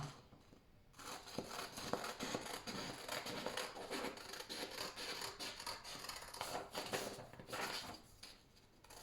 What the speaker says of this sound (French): vous allez bien découper selon les traits